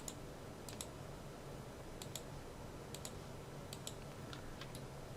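A mouse clicks repeatedly while edges are selected in 3ds Max, about a dozen quick, crisp clicks in small irregular pairs and clusters, faint and close over a low hum, with no talk.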